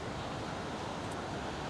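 Surf breaking at a reef break in the Maldives, a steady broadband wash of waves with wind rumble, loud and continuous throughout without distinct individual crashes.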